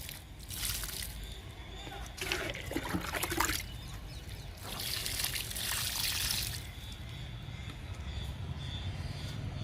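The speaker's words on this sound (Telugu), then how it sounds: "జామ చెట్టుకి వాటర్ ఇస్తున్నాను" Water trickles and sloshes as a freshly planted guava sapling in compost-enriched soil is watered outdoors, in uneven bursts of pouring over a steady background, with a voice talking at times.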